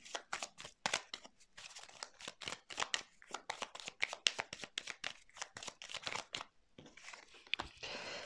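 Tarot cards are laid out for a reading, heard as a close, quiet run of quick papery slaps, shuffles and crinkles in an irregular rhythm with short pauses.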